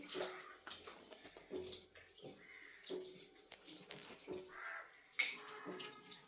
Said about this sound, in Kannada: ದ್ರಾಕ್ಷಿಯನ್ನೆಲ್ಲ ಉಪ್ಪು ನೀರಲ್ಲೆಲ್ಲ ತೊಳೆದು ಚೆನ್ನಾಗಿ ತೊಳ್ಕೊಂಡೆ